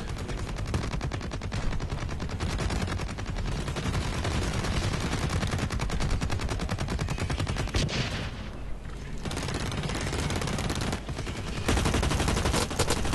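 Relentless automatic gunfire in the shooter game Blacklight Retribution, loud and close, with rapid overlapping bursts and barely a pause across the whole stretch.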